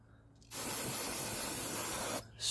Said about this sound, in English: Make sure there's nothing loose, and simply just spray.